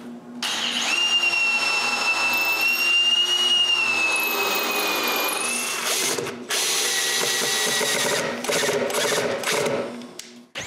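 Power drill boring holes to screw a table in place on a wooden edge sander build, a loud sustained whine with rising pitch for about six seconds, then a shorter rougher burst of drilling after a brief pause.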